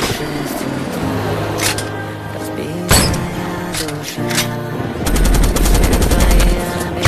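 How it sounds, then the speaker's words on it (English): Rapid machine-gun fire from a helicopter in several bursts, the last one long and rattling over a heavy low rumble, loud and close. "The helicopter sprayed them with gunfire."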